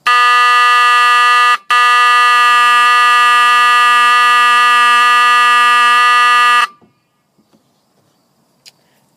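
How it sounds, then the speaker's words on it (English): A wheel lock anti-theft alarm blares a loud, harsh, steady electronic tone with one brief break, then cuts off abruptly, leaving a few faint clicks. "Wheel locks always have a very distinctive sound"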